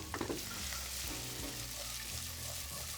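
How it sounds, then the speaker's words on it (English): Onion and celery sizzle steadily in hot oil in a pan. The frying hiss is close and even throughout, with no voices over it. "Once your oil is nice and hot, we're gonna add onion and celery and just let it sweat for 3 to 4 minutes."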